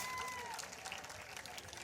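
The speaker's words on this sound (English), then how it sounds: "Let's have a round of applause, everybody," A crowd at a school sports award ceremony applauds a student, a faint, steady patter of clapping with a brief tonal sound at the start.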